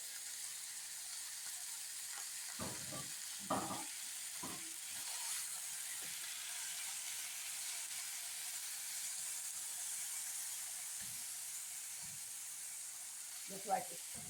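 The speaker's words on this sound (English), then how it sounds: "I'm going to go ahead and add my meat to this. This is ground turkey meat" Ground turkey and Italian ground sausage fry in a pan with a steady, soft sizzle and hiss, broken by a few sharp clatters and stirring knocks near the start and one more near the end.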